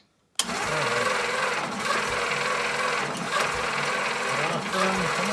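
An old Jeep's engine cranks steadily as it tries to start, with a carburetor being adjusted at the throttle; a loud, continuous churning drone begins abruptly and runs throughout, close by, with no voices.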